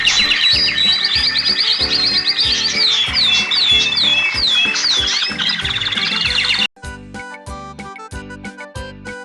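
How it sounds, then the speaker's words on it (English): Birdsong: bright, rapid chirping and trilling phrases repeated over a steady musical backing, then the song drops out and only the music continues. "The bird is singing."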